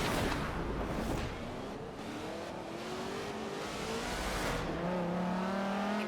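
Race car engine in a Forza Horizon 3 road race against a bounty driver, loud continuous engine roar rising in pitch through gear changes with a faint tire squeal, no talking.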